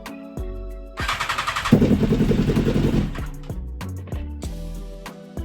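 A BMW S1000RR sport bike, crash-damaged, has its engine cranked over by the starter: a rapid pulsing whir for about two seconds, then a rough, low churning that fades, with scattered clicks and clanks nearby.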